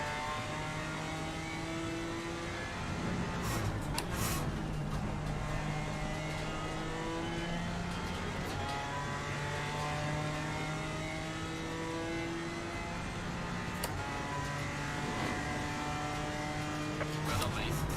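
Race cars in a British GT sim racing game, a BMW among GT3 cars, drone steadily with engine tones rising and falling through gear changes, a continuous close engine note under occasional talk.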